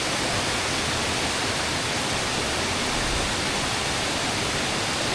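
Waterfall rushing outdoors in nature, a loud, constant broadband roar of falling water with no breaks and no voices.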